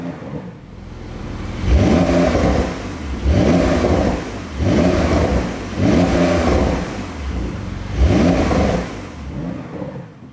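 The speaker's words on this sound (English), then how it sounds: "you actually get some nice burbling and some pops and bangs" Porsche 911 in Sport mode revving repeatedly, five rising throttle blips about every one and a half seconds, each followed by burbling and crackling pops on the overrun, loud and close with no talk.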